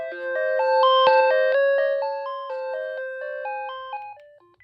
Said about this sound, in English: It's hard to go wrong with the classic ringtone.